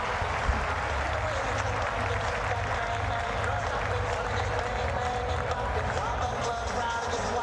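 A capacity stadium crowd at a cricket match applauds and roars in a dense, sustained wash of noise, with commentary speech running over it.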